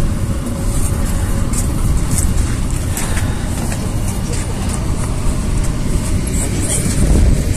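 A passenger train carriage gives off a steady, loud low rumble with broadband rolling noise that holds constant throughout, with no clear voices.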